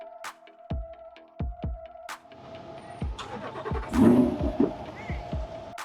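A car engine fires up and revs in a series of sharp bursts, each followed by a short, dying rumble, close by and fairly loud, building toward a stronger, more sustained roar.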